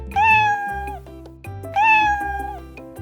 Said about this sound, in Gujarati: બિલાડી મ્યાઉ મ્યાઉ કરે